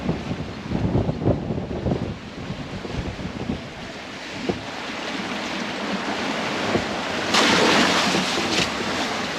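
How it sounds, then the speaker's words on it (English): Big, rolling open-ocean swells wash and surge around a 30ft sailboat on a solo Pacific passage. Steady rushing water mixes with heavy wind buffeting the microphone, with no voices. "this is a pretty good sized wave"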